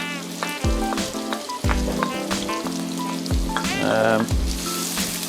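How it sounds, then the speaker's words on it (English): Onions sizzling and crackling steadily in a hot frying pan for a curry, with scraping stirs and clanks of a utensil against the pan. "Oh yeah, we've got a nice sizzle on there."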